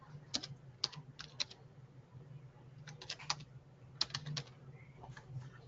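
Computer keyboard typing in short bursts of quick, light clicks separated by brief pauses, close and fairly quiet, with no voice over it.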